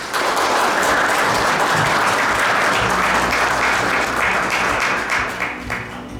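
A large crowd at a memorial ceremony gives sustained, loud applause, a dense, even wash of clapping that holds steady throughout and eases slightly at the end.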